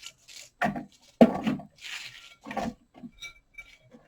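Cabbage being grated by hand for sauerkraut, a few separate rasping and rubbing scrapes against a grater blade, close and moderately loud, with short pauses between strokes.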